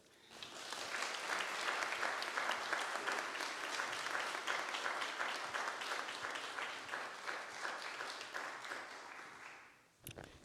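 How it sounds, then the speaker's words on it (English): A large audience at an awards celebration gives a warm, sustained round of applause for a lifetime award recipient, steady and dense for about ten seconds before fading out abruptly. "would you please give a warm round of applause welcoming Deneen Gordon"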